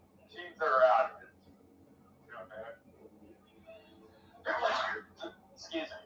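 A sharp sneeze bursts out in a basketball broadcast booth during an NBA game, followed by a second loud burst a few seconds later, with quiet murmurs between them.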